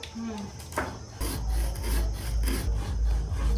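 Pepper and spices are ground by hand on a sil stone slab: rough, continuous stone-on-stone rubbing and scraping in repeated strokes, loud and close, with a short lull before the steadier grinding.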